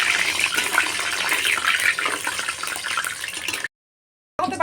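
Water poured steadily from a container into a pot for sugar syrup, a loud continuous gushing splash that runs for several seconds, then cuts off abruptly before briefly resuming.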